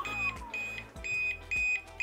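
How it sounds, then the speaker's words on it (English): A loud electronic beeper from Gyroor S300 electric hover shoes in recovery mode repeats in a steady rhythm, four or five sharp tones with brief gaps, close by and alone. "it'll just beep loudly at you"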